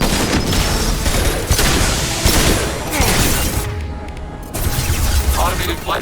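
Rapid gunfire and booming impacts rattle through a Mass Effect 2 combat scene, with dense bursts of shots and crashes, a short lull midway, and voices talking over the chaos.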